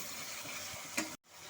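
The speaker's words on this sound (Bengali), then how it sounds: "সমস্ত গুঁড়ো মশলা দিয়ে পেঁয়াজ রসুনের সাথে ভালো মতো করে কষে নেব।" Ground spices sautéing with onion and garlic for chicken makhani, a close, quiet, steady sizzle with a small stirring scrape near the end before a sudden brief cutout, no voices.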